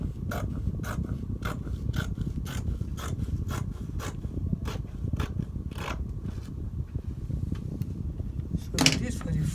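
Scissors snipping through fabric for a beaded bubu gown, a steady run of sharp, evenly spaced cuts close by over a low rustling background, with one louder clatter near the end.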